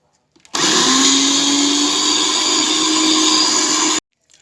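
Kitchen blender whirring at full speed for about three and a half seconds as it purees onion for a Yemeni dish, a loud steady motor drone that starts and cuts off abruptly, with short clatters before and after.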